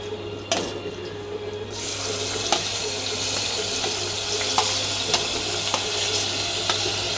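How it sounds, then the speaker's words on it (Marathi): Tomatoes frying in a pan for shahi paneer give a steady, close hiss of sizzling that runs throughout, broken by a few faint clicks and taps. "टमॅटो टाकले की चांगलं भाजायचे."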